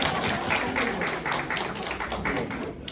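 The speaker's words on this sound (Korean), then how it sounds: "자, 박수." A church congregation claps together in brief, fairly close applause, a dense flurry of hand claps lasting a few seconds without any voices.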